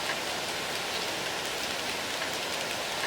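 Steady, dense rainfall in the video game NinNin Days 2, an even hiss of countless drops pattering without pause, fairly loud and alone with no voices.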